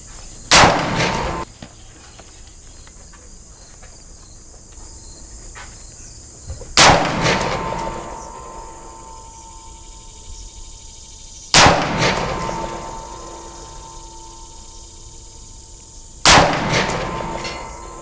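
A rifle firing 5.56 ammunition outdoors: four loud, sharp single shots spaced about five seconds apart, each ringing out with a long echoing decay over a quiet background.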